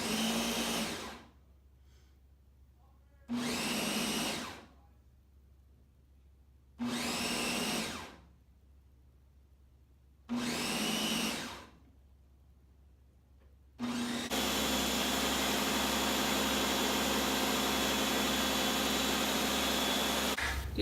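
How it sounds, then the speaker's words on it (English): A blender whirs through thick peanut butter banana muffin batter in several short bursts of about a second each, then runs steadily and loudly for the last several seconds. "Let's blend this up one more time."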